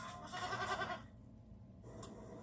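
Goat bleats in a TV advert for a personal injury law firm, a few wavering nasal cries close up, then a quieter pause and a brief final call.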